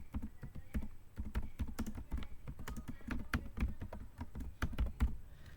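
Typing on a computer keyboard to rename a notebook: a steady, fairly quick run of close key clicks lasting several seconds with no speech.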